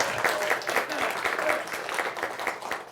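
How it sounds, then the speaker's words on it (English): An audience at a live spiritual talk session applauds in a dense, continuous wash of clapping from many hands, moderately loud and steady throughout. "He was expecting some applause there."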